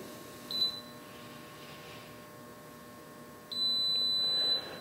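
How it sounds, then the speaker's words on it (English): A Cadco oven saves a cooking program with one long, high electronic beep, preceded by a tiny blip, against a quiet background hum. "Once you hear that elongated beep, you can hit your start stop and your first program is set."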